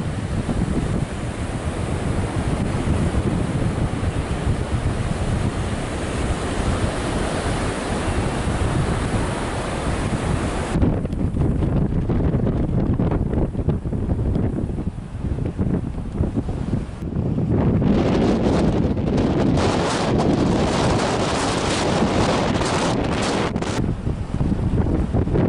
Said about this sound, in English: Hopefully you can hear me, but the wind out here is wild. Actually, it's a bit of a lull right now, but the waves are crazy.